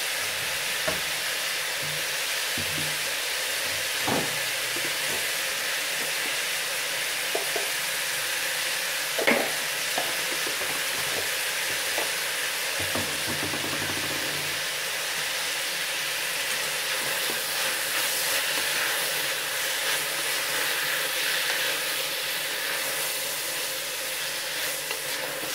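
Rava khichdi biryani ingredients sautéing in a pan, an even close sizzle and hiss with a few soft stirring scrapes and knocks, no talking.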